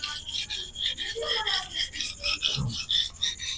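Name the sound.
Victorinox knife sharpened on coarse King 300 grit whetstone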